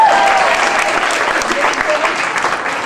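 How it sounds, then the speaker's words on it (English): Loud, steady applause from a stand-up comedy audience fills the room for a few seconds, a dense crowd clapping with a faint murmur of voices mixed in. "Round of applause, anyone?"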